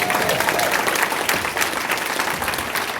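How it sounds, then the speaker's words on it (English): A crowd at a live real estate event in Sacramento gives a round of applause for Brent, a loud, continuous patter of many hands clapping that holds steady from start to finish. "You guys just give it a round of applause for Brent, first of all."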